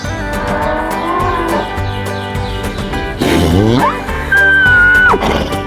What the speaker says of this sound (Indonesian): Terus kita kasih suara sapi.